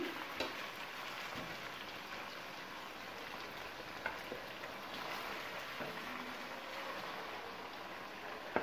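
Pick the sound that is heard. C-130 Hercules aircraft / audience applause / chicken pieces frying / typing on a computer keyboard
chicken pieces frying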